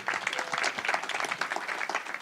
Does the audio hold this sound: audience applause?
yes